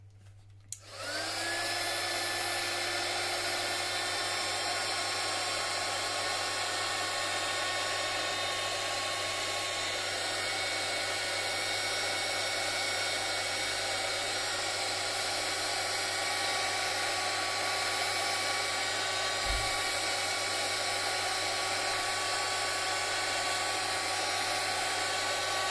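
A hair dryer drying a salt and PVA glue rust-effect craft, switching on and then blowing in a steady, loud whine and rush that lasts the whole stretch, with no talking.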